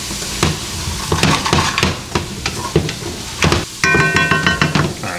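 Onions and carrots sauté with salt in a pot: a steady sizzle broken by repeated scraping and clinking of a utensil stirring against the metal, close and fairly loud, with no talking.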